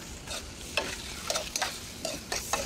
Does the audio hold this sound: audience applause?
no